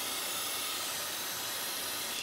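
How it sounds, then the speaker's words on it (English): Aerosol brake parts cleaner sprays in one long, steady, loud hiss during a clutch master cylinder job on a G35/350Z, continuous for the whole stretch with no talking. "we're just gonna make sure we clean this up real good with some brake parts cleaner"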